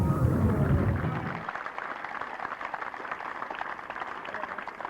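Audience applause following a heat of a 1983 cycle speedway world masters final; a dense, steady patter of clapping from a crowd, heavier at the outset and then settling into a sustained even roar.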